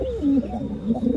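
A young Girebaz pigeon gives a short, soft, throaty coo, close by and alone.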